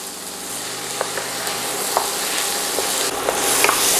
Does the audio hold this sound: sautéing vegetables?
yes